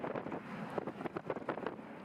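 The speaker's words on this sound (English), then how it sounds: "Here's what a strong crosswind looks like up against a jet full of people." A strong crosswind at an airport runway buffets the microphone in gusty, uneven bursts of rushing wind, loud and close, with no voices.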